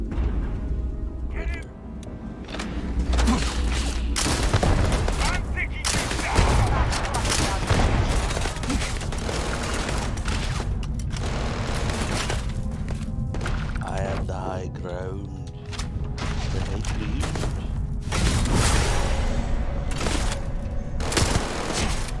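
Rapid gunfire in the modded sci-fi game Starfield, with dense volleys of shots running almost nonstop at a steady loud level and layered with other game sounds.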